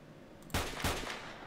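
Two loud, sharp gunshots from the video game Stalker, fired in quick succession, each trailing into a short rumbling echo.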